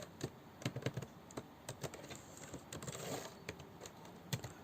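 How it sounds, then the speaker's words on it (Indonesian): Code typed on a computer keyboard: quiet, irregular clicks of keys pressed in short bursts and single taps, close and faint, with no talk. "itu mengetik code"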